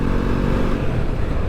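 A Bajaj Pulsar NS400Z 400cc motorcycle engine roars continuously and loudly up close, a steady dense rumble with no gaps or talk over it.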